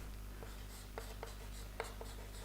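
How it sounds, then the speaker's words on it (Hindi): Chalk or marker writing on a board during a Class 12 maths lecture, a few faint scattered taps and strokes against a steady low room hum, with no talking. "तो हम लिखेंगे"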